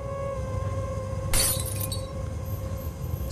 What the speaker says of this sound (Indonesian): Suara bolham lampu di ruang tamu pecah.